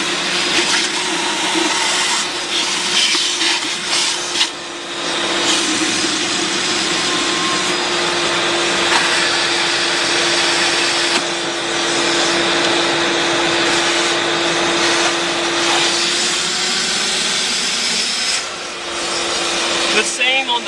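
A shop vacuum sucks water out of inground pool plumbing during winterizing, a loud continuous motor roar with a steady whine and rough gurgling surges that rise and fall throughout.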